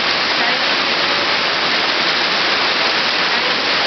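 A steady, dense roar of falling water, loud and continuous without pause, like a waterfall close by.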